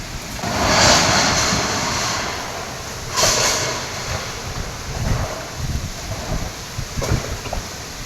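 Strong gusting wind roars steadily during an unseasonal storm in Mumbai, with bursts of louder rushing around the start and middle and a broad noisy wash of heavy rain underneath.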